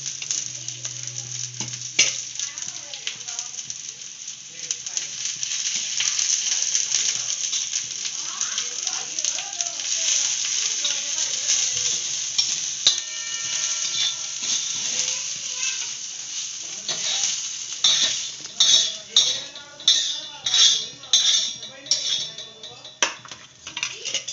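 Whole spices sizzle and crackle in hot oil for a Khandeshi-style fish roe curry, a steady frying hiss with a spoon stirring and scraping against the pan, and sharper clatters near the end.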